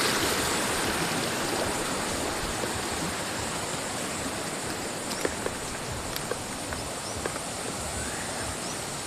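River water rushing and flowing steadily at close range, a continuous broad roar with no talk over it.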